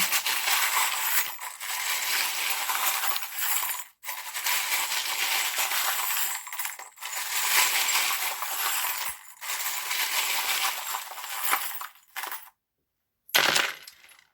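Small metal charms from a tarot charm reading spill out in rattling, clinking bursts, several pours separated by brief pauses, close and fairly loud, with no voices.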